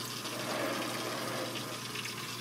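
Water running steadily down into a homemade bucket sump feeding a protein skimmer, a continuous close splashing trickle with no pauses.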